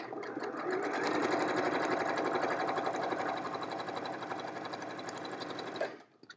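A sewing machine piecing quilt blocks runs in one continuous fast rhythmic whir for about six seconds, close and steady, then stops abruptly.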